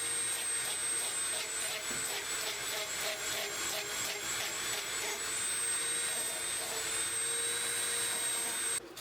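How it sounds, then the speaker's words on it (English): A Dremel-type rotary sanding tool shapes a small piece of wood held in a clamp, giving a steady high-pitched whirring grind that holds for nine seconds at moderate loudness with no talk. "used a Dremel type sanding tool to finish up shaping"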